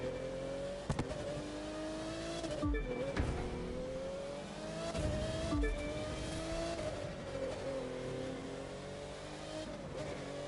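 A racing car engine in The Crew 2 during a city championship race, revving and shifting continuously with loud acceleration, a couple of sharp knocks and tire noise, no talking.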